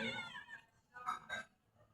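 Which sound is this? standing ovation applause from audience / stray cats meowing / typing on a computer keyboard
stray cats meowing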